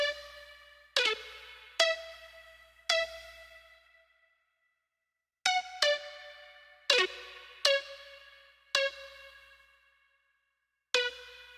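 A synth melody loop rendered to audio, made of plucky, bright notes struck one at a time with quick decays and gaps between phrases, soft and isolated with no talking.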